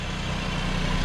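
A 200,000-mile Saab 9-5 engine with unresolved faults runs close by, a steady low throbbing drone that swells slightly as the gas pedal is pressed, with no talk over it.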